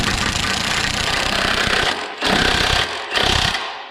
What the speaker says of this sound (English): Once we have it started, we can take our impact gun